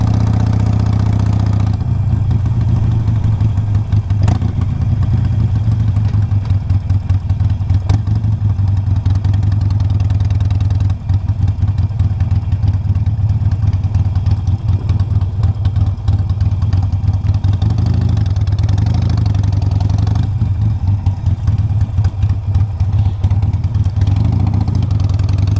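A 2007 Harley-Davidson 883R motorcycle engine runs continuously, loud and close, with a deep steady rumble and a slight mechanical clatter throughout.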